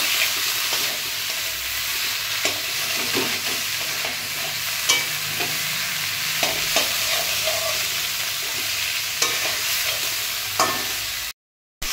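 Vegetables with gandal (stinkvine) leaves stir-fried in a pan for a vegetarian dish: a steady sizzle with repeated scraping clicks of a spatula throughout, close and fairly loud, ending in a brief cutoff.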